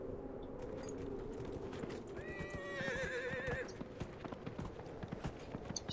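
In Dragon Age Inquisition, a horse neighs in a bright whinny amid steady clip-clopping hooves, while someone speaks over the game sound.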